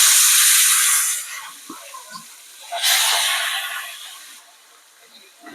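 Tengra fish dropped one by one into hot oil flare into loud, broad hissing sizzles, a strong burst at the start and another midway, each fading to a softer crackle with small pops.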